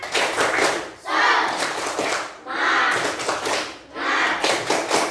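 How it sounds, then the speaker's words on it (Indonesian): A school class performs a rhythmic spirit clap, with bursts of group clapping alternating with chanting voices in a repeated pattern. "coba tepuk semangat"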